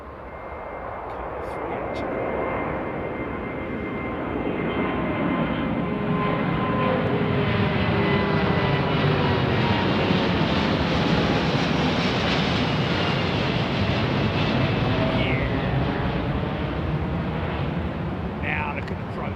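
An Airbus A380 airliner roars down Heathrow runway 09R on its takeoff run, a loud, sustained broadband engine rumble that builds early and holds steady and close throughout, with voices faintly beneath.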